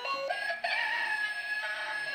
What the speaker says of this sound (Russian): Тут зато есть всякие петухи.